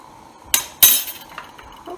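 A metal spoon swirls liquid into a whirlpool with two sharp clinks against the container, followed by faint scraping and a softer tap, all close and brief in a quiet room.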